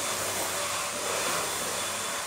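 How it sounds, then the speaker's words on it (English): A vacuum cleaner runs in a small room with a steady, close, broadband roar that holds level for the whole stretch, with no talking over it. "This vacuum's gonna piss me off."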